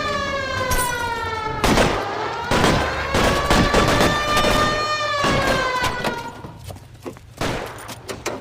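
Police sirens wailing close and loud in the L.A. Noire video game, a rising and falling tone layered over rapid bursts of gunfire, with no speech.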